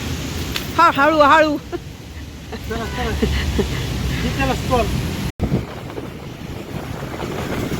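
Heavy monsoon rain pours steadily outside a hospital in Pune, a loud constant hiss that fills the whole clip while people talk over it.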